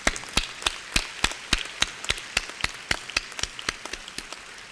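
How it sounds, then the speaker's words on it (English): Sparse, distinct handclaps at a university convocation ceremony, a couple of people clapping in a quick, fairly even rhythm, each clap sharp and separate against a quiet room rather than a full crowd roar. "Let us give them a round of applause."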